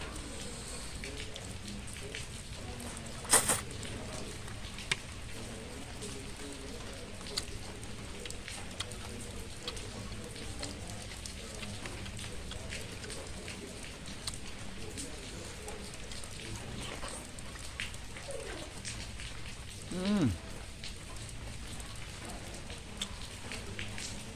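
Steady rain pours down outdoors in cold weather, a constant hiss that runs the whole time, with a couple of brief sharp knocks and a faint voice or two in the background.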